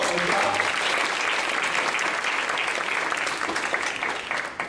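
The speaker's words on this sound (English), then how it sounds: "Give her a big round of applause." A museum science show audience applauds an assistant, a loud, dense burst of clapping that holds steady before starting to thin out at the end.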